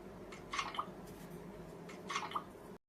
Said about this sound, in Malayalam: ഇനി നമ്മൾ ആ ഡ്രമ്മില് കൊണ്ടുപോയി ഒഴിക്കണം